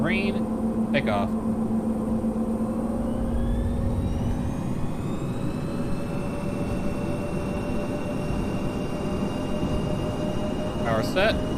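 A light aircraft's engine drones steadily during its takeoff roll on runway 19, a continuous loud hum with rising tonal whine, a couple of brief clicks or transmissions at the start and end.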